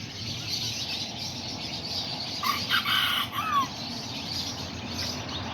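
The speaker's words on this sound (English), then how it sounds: "He's a little short-legged rooster." A short-legged serama rooster crows once in the middle, a ragged cock-a-doodle-doo rising over steady backyard hiss and the clucking of nearby chickens.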